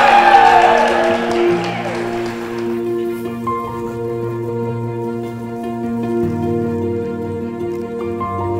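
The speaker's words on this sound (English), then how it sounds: "I really think I deserve a round of applause." Applause at a wedding reception following a best-man-style toast, a loud burst of clapping for the first three seconds that fades under music and someone talking.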